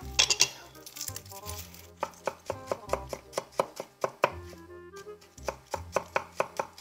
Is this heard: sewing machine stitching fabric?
no